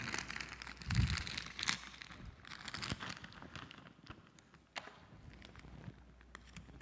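Close, quiet crinkling of a plastic chip bag, rustling and crackling in short bursts with a sharp rip early on.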